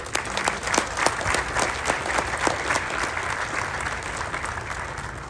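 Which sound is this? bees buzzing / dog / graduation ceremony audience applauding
graduation ceremony audience applauding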